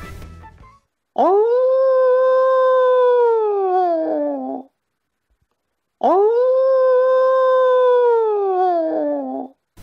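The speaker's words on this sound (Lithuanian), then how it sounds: "apie Lietuvos didįjį kunigaikštį Gediminą ir paklausyti, kaip kaukia geležinis vilkas." A recorded howl of the legendary Iron Wolf plays at a Gediminas Castle exhibit: two long, loud, drawn-out howls, each rising then slowly sagging, separated by a short silence and heard alone.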